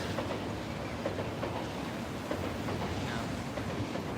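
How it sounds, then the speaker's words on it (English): A Shinkansen bullet train runs past near Shinbashi Station in Tokyo, a continuous rushing rumble with faint rhythmic clatter heard from street level amid city noise, with no talking. "Hey, there's a Shinkansen going by."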